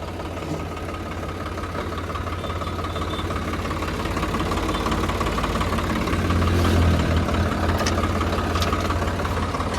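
A Swaraj tractor engine idles steadily with a loose, knocking rattle from loose nuts running through it, growing a little louder toward the end.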